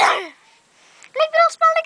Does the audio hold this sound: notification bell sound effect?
no